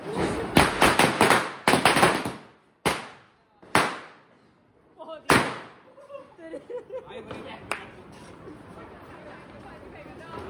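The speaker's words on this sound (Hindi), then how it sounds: "पहले फोटो खिंचाते फिर बम फोड़ेंगे" Diwali firecrackers burst in a string of loud, sharp cracks and bangs, several close together and then a few spaced blasts, followed by crackling and people chattering in the background.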